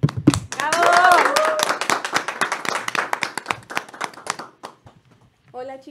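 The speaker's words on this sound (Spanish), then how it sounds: "la recibimos con un fuerte aplauso en todo el estudio" A burst of clapping hands from a small television studio audience, quickly thinning into scattered claps, while a voice speaks over the start.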